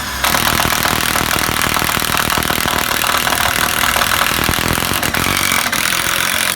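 Power drill driving a self-drilling tech screw through timber into steel framing while building a garden office, a loud continuous grinding whir with rattling, steady throughout and stopping abruptly at the end.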